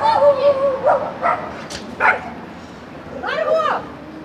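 Several dogs bark and yip in short bursts outside a home in Odesa, close and fairly loud, with a whimpering tone in places.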